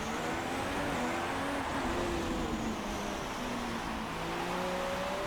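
Several race car engines in F1 2016 whine together in a continuous mid-distance roar, their overlapping pitches slowly rising and falling as the pack runs.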